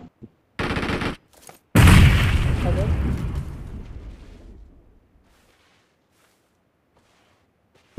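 Gunfire from an enemy player's weapon in a competitive mobile shooter game: short sharp bursts, then a heavy loud blast that rumbles and fades over a few seconds into near silence.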